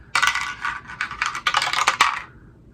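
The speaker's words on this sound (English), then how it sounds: "A little castle dice tower." Dice clatter down a small castle dice tower, a quick run of bright rattling clicks and knocks lasting a couple of seconds, close and fairly loud.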